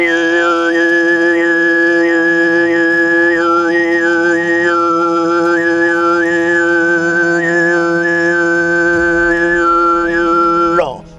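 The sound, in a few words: whistle-like throat singing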